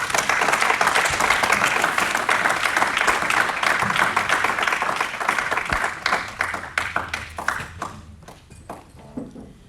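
A church congregation breaks into loud, sustained applause, many hands clapping together, before the sound thins into scattered, separate claps and fades out.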